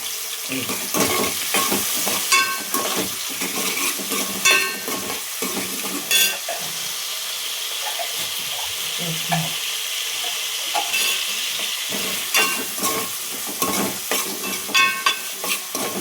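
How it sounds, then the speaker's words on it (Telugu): Onions fry in hot oil for a recipe, giving a steady, close crackling sizzle with frequent scraping stir strokes throughout. "నూనె కాగుతున్నట్టే సౌండ్ వస్తుంది. ఉల్లిగడ్డ వేసేసిన."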